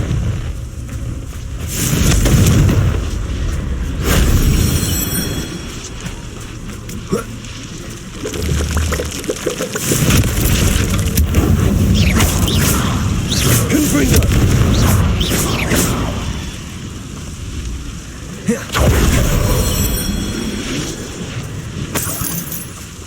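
Repeated booming fire-blast explosions from the Confringo spell in Hogwarts Legacy, loud bursts recurring through the stretch with a player's voice calling out the spell over the game sound.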